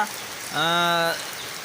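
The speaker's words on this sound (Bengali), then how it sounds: "প্রত্যেকটা ঘরের টিনের চালে কিন্তু বৃষ্টি পড়তেছে টানা" Soft, steady patter of rain on a tin roof in Tangail, Bangladesh, interrupted midway by a brief, tonal horn-like blare lasting about half a second.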